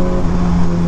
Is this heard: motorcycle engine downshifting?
yes